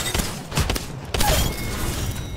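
Eva-8 shotgun gunfire in an Apex Legends match, a few quick booming blasts and thuds close together followed by lingering game noise, fairly loud and near.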